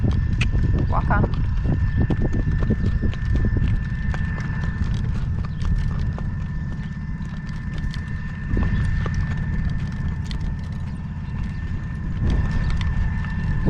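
Horse hooves clip-clop at a steady walking rhythm while the horse pulls a driven carriage outdoors on a windy day, under continuous talking from the driver.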